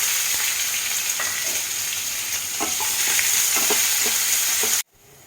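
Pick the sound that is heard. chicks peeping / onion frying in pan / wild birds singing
onion frying in pan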